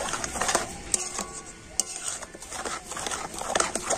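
A spoon stirs a thickening milk powder and sugar dough in a pan over low heat, with scraping, clinking strokes against the metal and a faint sizzle underneath.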